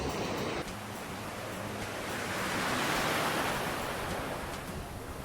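Sea waves wash onto a hot sandy beach in Vietnam, a steady broad roar of surf with wind noise on the microphone, swelling slightly toward the middle.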